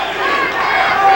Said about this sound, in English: The crowd here really enjoying it.